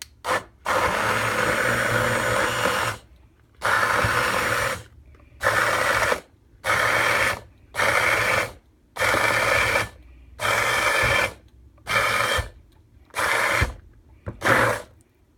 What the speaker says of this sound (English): I'm trying to get my little brown handheld mixer in here